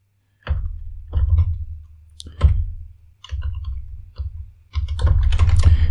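Bursts of close-up clicking on a computer keyboard while code is written, coming in short clusters separated by brief pauses, then a denser run of quick taps near the end, with no talk.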